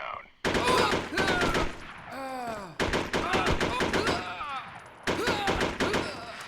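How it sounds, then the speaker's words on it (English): AKS-74 rifle gunfire in the SOCOM U.S. Navy SEALs video game: loud broadband bursts of shots in three clusters, mixed with in-game voices and effects. "I also picked up this gun, the AKS-74, which is an absolute cannon."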